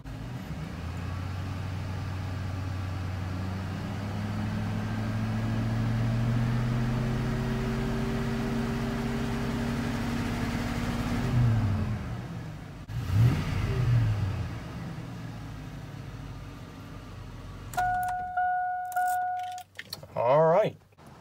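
A large truck engine with a rear main seal oil leak idles steadily at operating temperature with a low, droning hum, its pitch shifting briefly before a few clanks and a rising electronic whine near the end.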